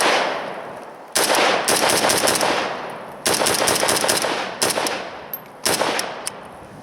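An AK-47 rifle fires loud bursts of rapid automatic gunfire, four separate strings with short pauses between them, close and sharp with no voices.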